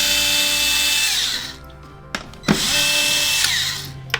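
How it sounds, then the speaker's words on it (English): A power screwdriver backs out the long main body screws of an Xbox One X console: whirring motor bursts that wind down, a pause with small clicks, then another sustained whir, close and alone. "then we're going to unscrew these 2, 4, and 6 screws."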